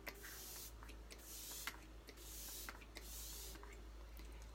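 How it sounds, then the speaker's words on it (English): Touch Behold setting spray mists onto a face in several short, soft hissing bursts, close and quiet, with brief pauses between sprays and no talking. "I set with my Touch Behold setting spray, so I give it a little shake, and then like a hairspray"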